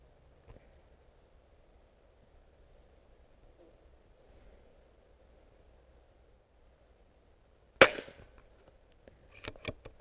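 A Daystate Huntsman Revere .22 air rifle fires a single sharp, close crack of a JTS Dead Center pellet in an otherwise quiet outdoor setting, followed by faint clicks and handling noises.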